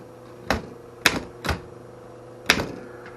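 Four hard, sharp key strikes on a 1917 Underwood No. 5 typewriter land irregularly over a few seconds, each a crisp clack with a short ring, close and loud against a quiet room.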